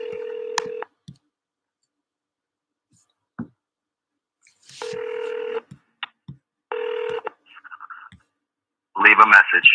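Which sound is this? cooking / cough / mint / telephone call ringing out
telephone call ringing out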